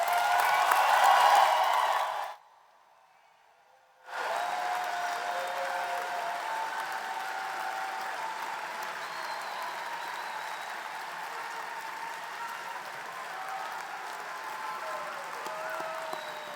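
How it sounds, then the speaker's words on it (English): Applause at a University of Southern Indiana graduation ceremony for the recipients of master's and other degrees, a sustained wash of clapping from a large crowd, broken by a brief silent gap, then continuing evenly. "Let us applaud the recipients of the master's degrees and all degrees."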